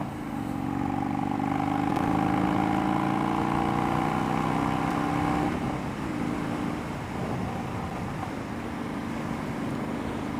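A motorcycle fitted with a Bassani Road Rage 2 exhaust runs with a steady, throaty drone that shifts slightly in tone partway through and then settles into an even idle, close and continuous with no talking.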